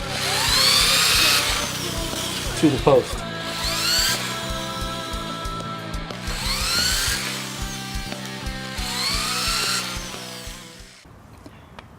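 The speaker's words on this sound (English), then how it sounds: "Now we're just pre-drilling some holes to attach the base" A power drill whirs in repeated bursts, rising and falling as it pre-drills holes into the wooden base of a cat scratching post, with brief pauses between holes and a short mumbled phrase.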